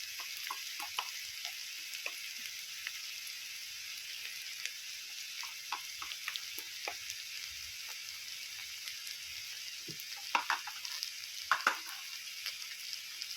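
Masala being stirred into liver fry in a hot pan, a constant close sizzle broken by scattered spoon taps and scrapes, with a few sharper clacks near the end.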